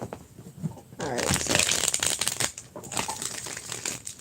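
A burst of crisp, rapid riffling starts about a second in, like a deck of cards being shuffled close by, then fades into lighter rustling.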